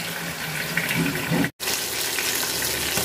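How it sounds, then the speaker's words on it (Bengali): Pangas fish fries in a pan with a steady, close, hissing sizzle throughout. It cuts out for a split second midway, then resumes at the same level. "মাছ ভাজা হয়ে গেছে, তো এখন আমি তুলে নেব মাছগুলা।"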